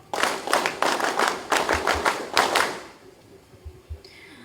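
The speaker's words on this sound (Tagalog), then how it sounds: "Da, palakpak!" An audience at a Philippine Army Reserve graduation ceremony claps in a steady burst of applause for close to three seconds, then it quickly dies away into quiet room tone.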